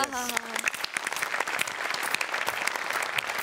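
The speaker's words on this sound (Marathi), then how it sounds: "एकदा सगळ्यांकरता टाळ्या होऊन जाऊ दे." A studio audience at a Marathi comedy show breaks into loud, sustained applause, dense clapping continuing throughout with light crowd noise beneath.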